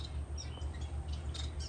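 Society finch chick begging for food with faint, rapid high squeaks and chirps under a constant low background hum, close but quiet, with no talking.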